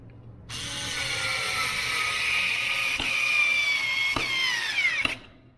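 A cordless screwdriver drives a gypsum screw into wood with a steady, close, high motor whine. Its pitch sags slightly toward the end, a few sharp clicks sound in the last seconds, and the motor then stops.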